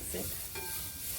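A spoon stirs crushed coconut, green coriander leaves and curry leaves in a bowl, a short, soft scraping and rustling up close.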